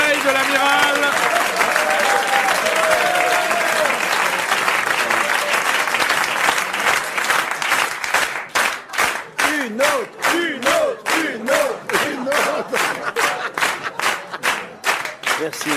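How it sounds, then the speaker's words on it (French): Loud, dense applause from a studio audience on a French television talk show, later breaking into rhythmic bursts of clapping while voices speak over it. "Ces applaudissements spontanés me troublent, me perturbent."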